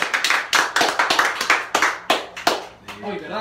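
Several people clap by hand at a bongo raffle drawing, irregular sharp slaps arriving in bursts, loud and close, with a voice speaking briefly near the end.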